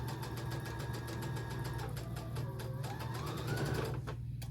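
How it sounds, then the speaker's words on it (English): Sewing machine stitching a flying geese quilt block, a close, steady rapid needle rattle with a low motor hum that shifts pitch slightly as the speed changes, running continuously. "and I'm going to sew that."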